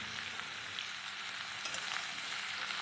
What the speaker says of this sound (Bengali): এবার লাউগুলো দিয়ে দিলাম কড়াইতে।